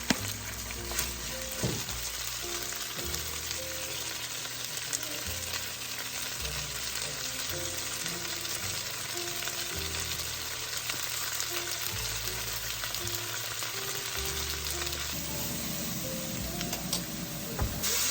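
Onion slices cook in a pot as the base of a gluten-free pot roast, a continuous soft sizzle and frying hiss with occasional stirring scrapes, steady and fairly quiet throughout.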